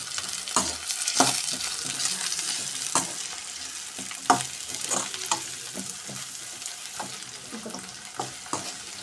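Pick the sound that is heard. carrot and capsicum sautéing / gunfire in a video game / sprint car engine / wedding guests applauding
carrot and capsicum sautéing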